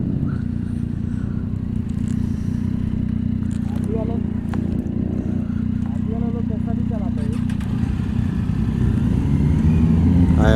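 A Suzuki Hayabusa motorcycle engine idles with a loud low steady rumble close by, with a few faint clicks and scrapes on top and voices talking briefly under it.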